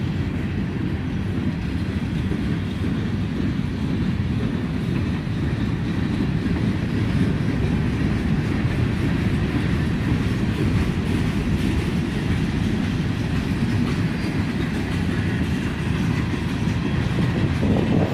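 A slow freight train of painted boxcars rolls past on a hot day, a loud, steady, close rumble with continuous wheel and car noise throughout, no voices.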